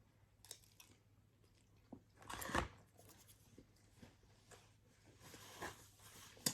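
Someone eating crunchy Pizza Hut pizza crust dipped in sauce, with close crisp crunching bites scattered over several seconds, one louder burst in the middle, alone without talk.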